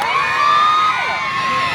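A crowd at a national pageant costume parade cheers and shouts loudly, with sustained high-pitched screams and whoops filling the space throughout.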